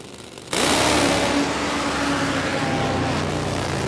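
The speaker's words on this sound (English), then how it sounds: "Top Fuel motorcycle." A Top Fuel drag racing motorcycle engine roars in at once at a drag strip and holds a steady, harsh drone at close range, with no voices over it.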